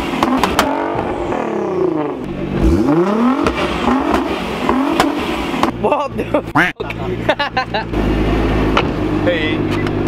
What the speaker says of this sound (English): Hey Will, let me hear you rev your car, go on.